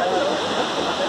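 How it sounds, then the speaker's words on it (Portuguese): A waterfall seen on a park nature trail, a steady broadband rush of falling water heard close and continuous, with no break. "Mostrei a cachoeira pra vocês"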